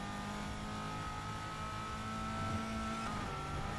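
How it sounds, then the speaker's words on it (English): Engine noise of cars in the video game Need for Speed: Heat hums steadily, swelling slightly as a vehicle passes around the middle, with a constant background drone. "I hear like car noises going by"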